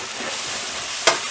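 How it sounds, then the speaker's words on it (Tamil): Tomato and coriander frying in a pan give a steady, close hiss of sizzling, with one brief sharp clatter of stirring near the end. "தக்காளி ஆட் பண்ணிவிட்டு இதை நல்லா ஃப்ரை பண்ணிடலாம்."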